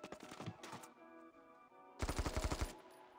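AK-12 rifle fire in the mobile shooter Standoff 2: a short burst early on, then a loud rapid string of shots near the end, with a quieter stretch between.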